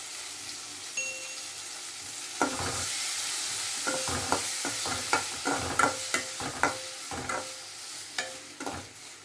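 Chopped tomato stirred into sautéed onions for a Tamil drumstick (murungakai) kulambu, a steady sizzle under a run of sharp spoon scrapes and taps against the pan, close and fairly loud, with no talking.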